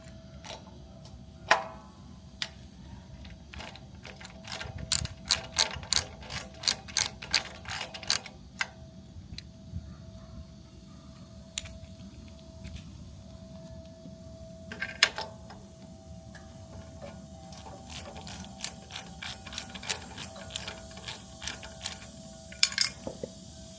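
A ratchet with a 10mm socket backs out the filter housing bolts on a Briggs and Stratton 420cc generator engine, clicking in fast rapid runs of sharp ticks broken by short pauses, close and fairly loud.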